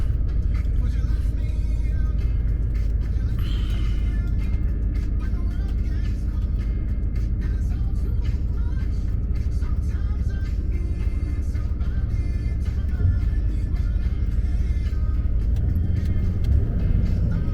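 A car heard from inside while driving, giving a steady loud engine and road rumble throughout with faint talk in the background.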